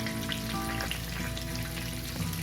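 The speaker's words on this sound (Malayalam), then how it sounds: "പാകത്തിന് ഗോൾഡൻ ഫ്രൈ ആയി കഴിഞ്ഞതിന് ശേഷം നമുക്കിത് കോരിയെടുക്കാം" Paneer pakoda frying in hot oil, a continuous dense sizzle and crackle heard up close with no voices over it.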